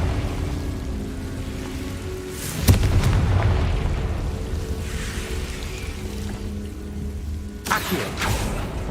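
A Confringo spell explodes in Hogwarts Legacy on PS5, with a sharp boom followed by a rumbling roar, then a second burst near the end over steady game ambience.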